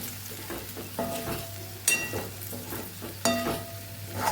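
Spicy Kathiyawadi-style okra curry is stirred in a pan, a soft steady sizzle with rhythmic scraping and two sharp spoon clanks against the metal, close and unaccompanied by talk.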